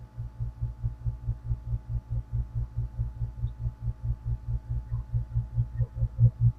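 Air conditioner running in a room, picked up through a cheap wireless lavalier microphone as a low rhythmic throbbing hum that pulses steadily, about three beats per second, with no talking.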